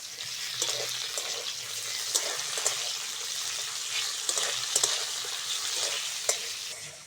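Chopped tomato frying with five-spice and green chilli for tomato dal, a continuous sizzle with stirring clinks and scrapes scattered through.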